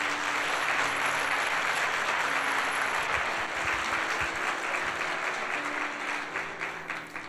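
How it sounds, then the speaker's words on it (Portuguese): A church congregation at a Sunday service applauds together, sustained loud clapping from a crowd that holds steady throughout with a faint tonal hum beneath, then eases slightly toward the close. "Dá um aplauso a Jesus por isso."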